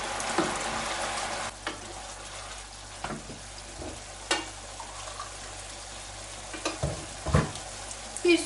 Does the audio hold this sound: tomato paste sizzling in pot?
yes